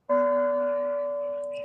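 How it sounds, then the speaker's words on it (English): One bell-like tone strikes suddenly and rings on steadily, slowly fading, with nothing else around it. "I heard a bell."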